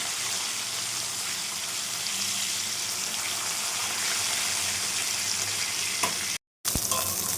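Rupchanda fish sputtering in hot oil in a wok, a steady close sizzle and crackle running throughout, briefly cutting out near the end before resuming.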